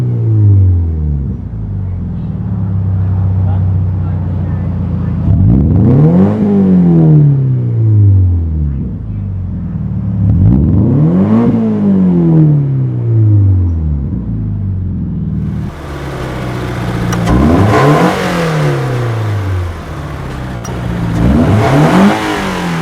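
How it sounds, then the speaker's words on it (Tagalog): Toyota 86 engine and exhaust revving repeatedly, several rising-and-falling rev sweeps over a steady idle rumble, loud and close, with the last bursts harsher and brighter. "iparinig ko sa inyo ano yung exhaust and at the same time, ano yung tunog ng isang engine ng 86."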